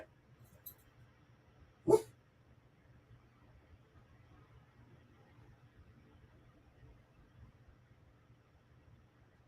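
A dog gives a single sharp, loud bark near the start, with a faint earlier yip, then the room falls to a quiet low hum for the rest.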